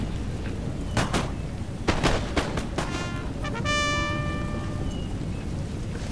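Musket and rifle volleys in a Napoleon: Total War battle on the Aosta Valley map, a handful of sharp cracks ringing out in short clusters, fairly distant, followed by a sustained ringing tone.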